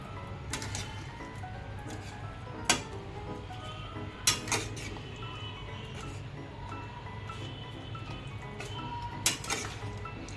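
A spoon stirs sugar into a pot of crumbled bajra rotla mixture, giving sparse, sharp metallic clinks a few seconds apart over a faint, steady background hum.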